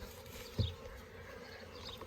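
Honeybees swarming on a farm buzz steadily at a low level, with one brief louder burst as a bee passes close, no voices present.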